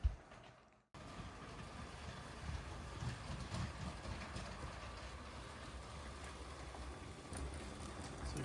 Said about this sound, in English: we've now got one of the powered up trains moving on the interior mainline track